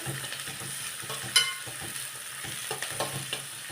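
Small shallots and coconut slivers frying in hot oil in a pan, a steady close crackling sizzle with light stirring scrapes and one sharp knock near the start, no voices.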